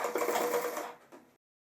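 A sewing machine runs a close, steady burst of stitching as a zipper is sewn onto pant-cut pajamas, then slows and stops after about a second.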